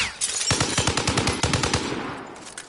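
Rapid automatic gunfire in the Warzone video game, a loud sustained burst of evenly spaced shots that then fades into a ringing tail.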